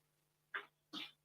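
Two quick sneezes in a row, close and fairly quiet against a faint background hum.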